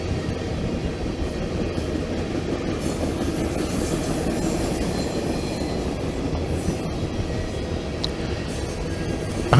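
A CSX or Norfolk Southern freight train passes on the line between Fitzgerald and Chula, with a dense, steady rolling rumble of railcars and a thin high wheel squeal running through it, close and continuous.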